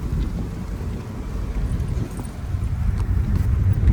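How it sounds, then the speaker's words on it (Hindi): Strong wind buffets the microphone on a mountain road near Kausani, Uttarakhand, a steady low roar that swells louder toward the end, with no voices. "अब तेज़ हवा चल रहा है।"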